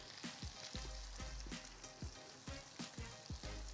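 Garlic and flour sizzle steadily as they sauté in a pan for a steak sauce, with a continuous frying hiss broken by repeated soft stirring scrapes, close and with no voices.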